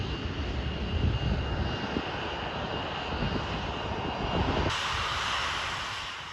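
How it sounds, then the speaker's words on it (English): Boeing 737-400 jet engines at an airport, a loud steady roar with a broad hiss that brightens and swells near the end, no talk. "here it comes, my aircraft for today"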